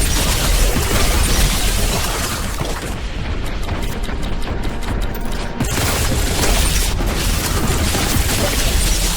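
A plasma gun in Warhammer 40K: Boltgun fires like a rocket launcher, throwing out loud, continuous booming explosions and mechanical clatter. The roar dips briefly in the middle, then surges again, dense and close throughout.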